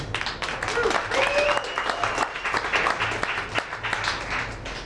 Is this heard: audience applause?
yes